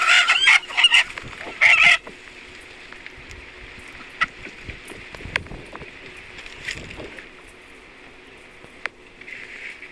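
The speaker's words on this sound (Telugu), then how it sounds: "ఇప్పుడు పుంజు" Chickens and a rooster clucking and squawking loudly in short bursts during the first two seconds of a forest village ritual offering, then a quieter stretch of outdoor ambience with faint scattered sounds.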